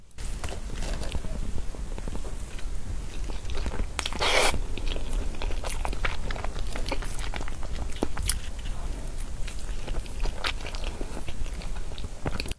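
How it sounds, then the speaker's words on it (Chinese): Close, steady biting and chewing of custard-filled lava dumplings, soft wet crunches and squishy mastication repeating through the whole stretch with no talking. "再来吃四个爆浆团子"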